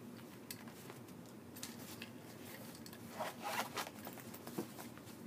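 A big handbag-style wallet with an attached wristlet being zipped shut, a soft close scraping rasp of the zipper with fabric rubbing, quiet and close, no voices.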